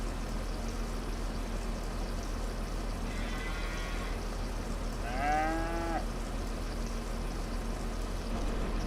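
Cattle mooing on a large Farming Simulator 25 herd, a faint distant moo followed by a louder, nearer drawn-out moo over steady background hum.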